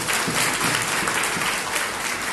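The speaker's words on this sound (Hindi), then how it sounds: "इसके लिए तो कम से कम ताली बजाइए" Sustained audience applause fills a college seminar hall on national education policy, a dense, even wash of many hands clapping close and loud throughout with no talk over it.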